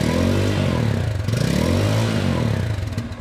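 Bajaj Pulsar N250 motorcycle with dual exhaust, its engine revved loudly and steadily up close, the pitch rising and falling through a short burst of throttle.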